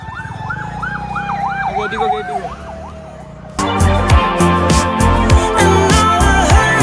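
An ambulance siren wails loudly in rising and falling sweeps for several seconds, then gives way to louder traffic and engine noise on the road.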